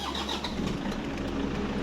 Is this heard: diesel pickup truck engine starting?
yes